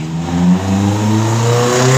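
A Honda Beat carburetor motorcycle engine runs close by and is revved, its pitch rising and falling smoothly through a steady, loud idle-to-rev drone.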